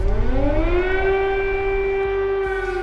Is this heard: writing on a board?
no